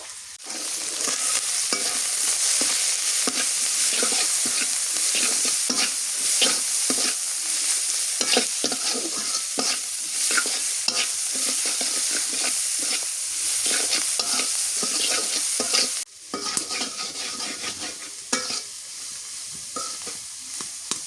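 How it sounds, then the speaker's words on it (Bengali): Dried fish, chillies and onions sizzle and crackle steadily in a hot pan while a utensil scrapes and stirs repeatedly, close up, with no voices throughout. "শুটকি, মরিচ, পেঁয়াজ কষানো হয়ে গেছে"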